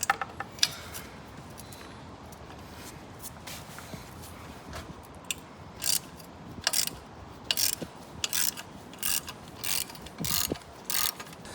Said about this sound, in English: the socket that's needed to undo the bolts on the headers are a 12mm socket